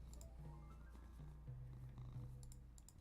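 A cat purrs on a lap, a soft, continuous low rumbling close by, with faint keyboard typing clicks near the end.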